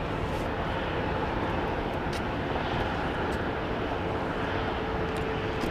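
An airplane roars past at Dallas Love Field airport on a windy night, a loud, steady broadband engine rumble that holds strongly throughout without fading.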